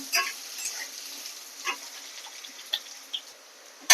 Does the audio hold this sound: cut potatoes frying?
yes